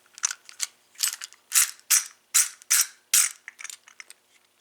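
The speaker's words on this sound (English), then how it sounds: "A Quickset 980 deadbolt featuring smart key cylinder." A Kwikset 980 deadbolt with a SmartKey cylinder being worked by hand, giving a close, crisp series of metallic clicks and ratcheting rattles in uneven bursts with brief silences between.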